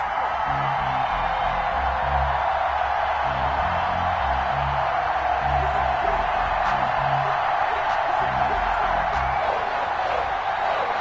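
A stadium crowd at a New York Jets versus New England Patriots football game roars steadily at a constant loud level, with a thumping beat and voices running underneath throughout.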